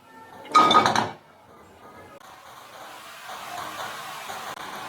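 Cut bottle gourd pieces tipped into a dry, lightly heated pan for chutney, a brief close clatter and rattle of the pieces landing, then a faint steady hiss from the stove.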